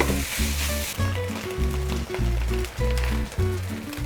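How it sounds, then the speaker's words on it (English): Sausage frying in its own rendered fat in a pan, a loud, continuous sizzle close up, broken by bursts of scraping and stirring and low rhythmic thumps beneath. "we're gonna use the sausage fat to cook off the sausage"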